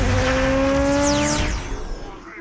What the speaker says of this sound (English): the reveal of the all-new mid-engine C8 Corvette